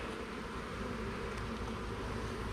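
Honeybees buzz steadily and close during an inspection of an open hive with brood and pollen frames, a dense continuous drone with no pauses and no talk over it.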